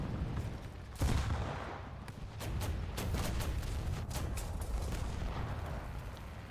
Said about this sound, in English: Go, side machine guns!